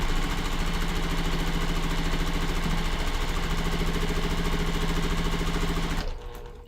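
A sewing machine stitches quilt block pieces in a long, steady mechanical whir with a fast rhythmic hum that runs unbroken for about six seconds, then stops abruptly.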